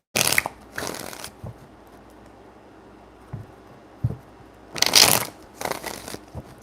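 Tarot cards being shuffled by hand, several separate riffling bursts with quiet pauses between them, close and fairly crisp.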